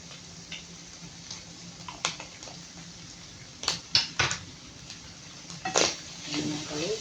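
A metal utensil stirs pancit canton noodles in a pan with black pepper added, giving soft scraping and a few sharp clinks and taps against the pan, loudest in a short cluster near the middle and again toward the end.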